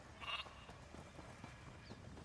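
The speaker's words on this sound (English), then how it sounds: "Also adorable goats." Goats bleating in the Markarth zone of the video game Elder Scrolls Online, one short bleat standing out clearly near the start over a steady game ambience with faint hoof-like taps.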